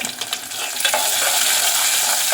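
Tomato thokku sautéing in a hot pan, a steady loud sizzle with stirring scrapes at the start, continuous and close without speech.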